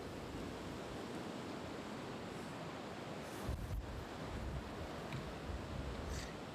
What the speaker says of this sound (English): The wind is relatively strong here down at East Midlands this afternoon.